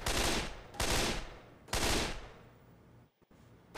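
AK-47 assault rifle fire in the video game Left 4 Dead 2, heard as three loud close bursts of rapid automatic shots separated by short pauses, then a fading tail.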